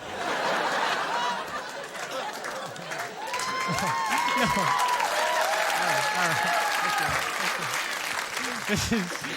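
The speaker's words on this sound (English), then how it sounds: "This is so unusual to hear so much applause" A studio audience applauds and laughs for Mitch Hedberg's stand-up on a late-night talk show. Steady clapping runs throughout, and chuckles and hoots rise through it as the crowd's noise swells midway.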